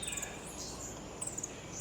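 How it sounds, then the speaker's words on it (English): High, thin chirps and trills from birds repeat against a steady, rushing background of waves, fairly faint and distant, in botanical gardens on Mahé, Seychelles. "So all you can hear is the birds, as you can hear right now"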